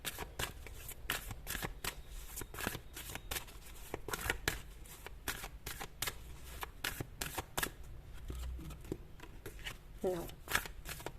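Playing cards are shuffled over and over in quick riffles, crisp fluttering bursts close by with a speaking voice now and then.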